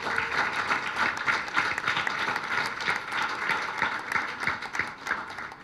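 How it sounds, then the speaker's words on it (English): A crowd at a book launch event in Mumbai for Hema Malini's biography claps steadily, dense applause rolling on for several seconds with no voices over it. "So I think you guys can do a better job with the applause."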